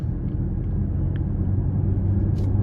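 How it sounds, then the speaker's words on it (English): A 2023 BMW X6 xDrive40i M Sport with a 3.0-litre turbo inline-six, driving. A steady low cabin rumble of engine and road noise holds evenly throughout, with no talk. "So starting the test drive in the X6 here."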